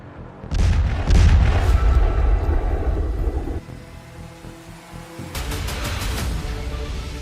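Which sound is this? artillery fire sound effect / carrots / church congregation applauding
artillery fire sound effect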